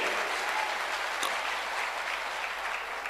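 Audience at a financial training seminar applauds in a continuous, moderately quiet wash of clapping that lasts a few seconds.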